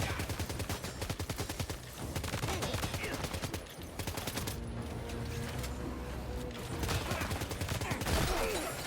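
Sustained assault rifle fire in Death Stranding 2, dense rapid bursts and overlapping shots crackling almost without pause, loud and close, with heavy action noise and occasional voices underneath.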